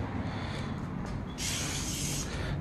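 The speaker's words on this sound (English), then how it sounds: "I sprayed the whole thing." A brief hiss of a disinfectant aerosol spray on a box starting partway through, close and loud, continuing steadily to the end.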